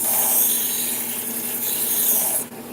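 A sharpened fillet knife edge is rubbed steadily against an abrasive to strip away burrs, a continuous close rasping sweep that stops abruptly near the end.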